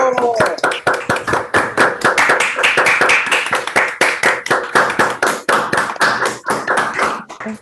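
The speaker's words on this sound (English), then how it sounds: "Let's finish this session by giving Yoshiko a round of applause" Clapping at the close of an online special session, loud and close with distinct rapid individual claps in an uneven rhythm, as if from a few people on open microphones, continuing throughout.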